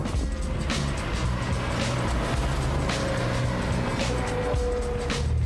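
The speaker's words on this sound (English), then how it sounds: "taking an unusual American car out for a spin, the Chevrolet Corvair Monza Spider" A Chevrolet Corvair Monza Spider drives along, its engine a steady loud drone with low rumble and a faint whine, sustained throughout with no pauses and no talking.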